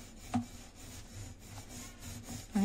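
A rolling pin rubs back and forth over aloo paratha dough in soft, repeated strokes with a quiet rhythmic scraping, close by and faint, with a light knock at the start and end.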